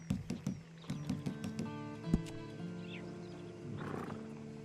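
A horse in the video game Red Dead Redemption 2 on PS5 snorts and whinnies while its hooves stamp and clop, set against a steady electronic hum and background tones.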